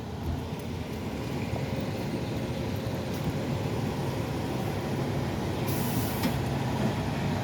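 City bus with air brakes at a busy Columbus Ave stop by Ruggles Station during the MBTA Orange Line shutdown, a steady engine rumble throughout with a brief bright hiss of brakes near the end.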